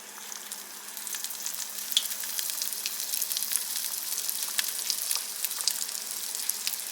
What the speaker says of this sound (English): Then you want to drop it into this oil.